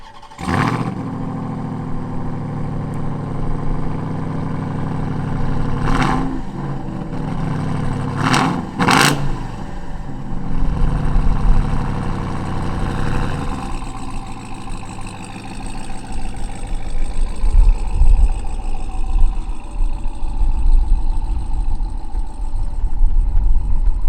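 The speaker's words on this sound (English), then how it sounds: "Now I'm gonna start the truck up, give it a couple revs, let you hear it" A 2021 Ram 1500 TRX pickup truck fires up and settles into a loud, steady idle, then gets several sharp revs in quick succession before rumbling on close by.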